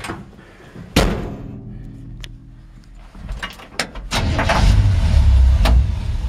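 A 1952 Chevrolet 3100 short-bed truck with a C10 front clip, 350 V8 and automatic transmission. A door thunks shut, a few mechanical clicks follow, and then the engine starts and settles into a low, steady rumble close by.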